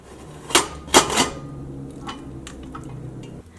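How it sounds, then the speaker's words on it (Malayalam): A pressure cooker lid is opened after the steam has been released, with a beef batch inside for chilli beef. Two loud metallic clacks come up close, followed by softer clicks and handling noises over a low hum. "നമുക്ക് കുക്കറൊന്ന് തുറന്ന് നോക്കാം."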